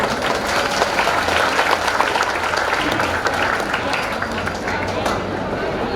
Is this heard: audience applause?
yes